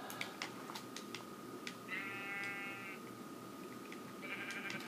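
Sheep in the Minecraft video game let out two wavering bleats, one in the middle and one near the end, fairly faint over a low steady background, with no talk.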